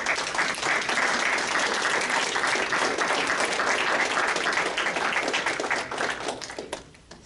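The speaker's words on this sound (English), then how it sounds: "give them a big round of applause because they helped you get there" Loud, sustained applause fills an indoor intern pinning ceremony as the audience claps for family and friends, dense and even for several seconds before tapering off at the end.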